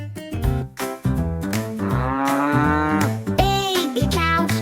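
A singing voice imitates a baby cow's moo in a children's nursery rhyme, with repeated drawn-out sung moos over bouncy musical backing, loud and close.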